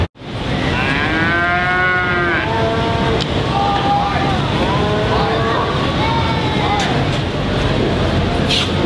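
Cattle at a livestock show, including Longhorn heifers, moo repeatedly with drawn-out, wavering calls over steady crowd and arena noise while an announcer talks.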